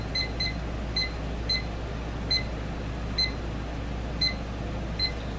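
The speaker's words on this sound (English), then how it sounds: "I'm going to set a timer for 10 minutes." A kitchen timer gives short, sharp electronic beeps, single or paired, spaced irregularly as it is set, fairly faint over a steady low background hum.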